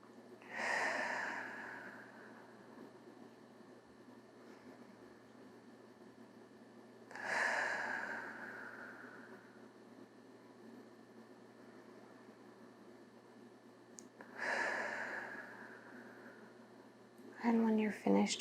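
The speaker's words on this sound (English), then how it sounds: "Take 3 more rounds of breath this way." Slow, deep breaths during a prenatal yoga session, three long airy exhales spaced about seven seconds apart, close and soft, ending with a brief voice.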